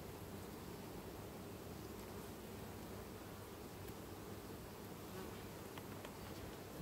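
Honeybees buzz steadily at an open hive of a production colony in August, a dense, continuous hum that fills the whole stretch without pause, close and even in loudness, with no voices.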